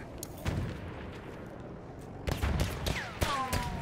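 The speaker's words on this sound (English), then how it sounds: "Oh, don't be shooting at me, girl!" Battlefield 1 multiplayer gunfire: scattered sharp shots and bursts, some distant and some close, crack through the match's ambient rumble, thickening into a denser volley in the second half with ringing metallic tails.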